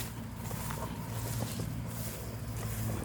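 Low, steady rumble of a Kubota L4708 tractor cutting grass in a palm plantation, an even engine drone with a slight wind-like hiss, continuous and fairly quiet.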